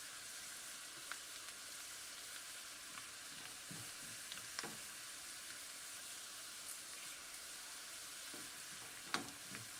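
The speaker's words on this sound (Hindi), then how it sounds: "ज़ीरा, राई और मेथी, कुटी हुई लाल मिर्च थी वो भी डाल देंगे हम" Cumin, mustard seeds, fenugreek and crushed red chilli sizzle steadily in hot oil, a soft, continuous crackling fry with occasional faint pops and clinks, with no talking.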